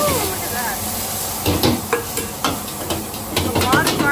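Garlic and ground pork fry in a pan at a Thai street-food setting for kaprow, a continuous sizzle broken by scraping, clanking stirring strokes, close and loud.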